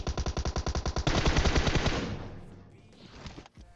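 Rapid automatic gunfire from the mobile shooter game PUBG Mobile comes as a close, loud, evenly spaced burst of shots that quickens and then fades into a lingering rumble of echoes and faint game sounds, with no talking.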